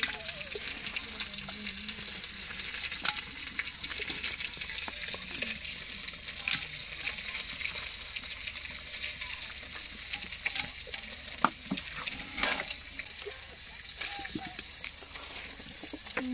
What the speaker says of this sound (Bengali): এবারে চিকেনগুলো হাঁড়ির মধ্যে দিয়ে দেব